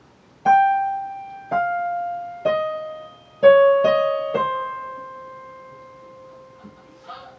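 Keyboard playing the fifth line of Khachaturian's Andantino, six single notes struck one after another at an even, unhurried pace, each ringing and decaying, up close with no talking.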